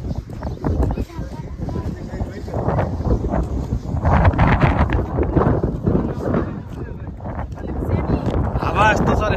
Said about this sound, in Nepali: हावा यस्तो चले है